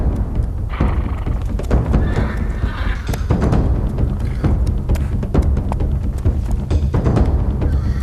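A horse at a Japanese mounted archery school in Kamakura neighs loudly while its hooves clop and thud steadily on the ground, close and continuous throughout.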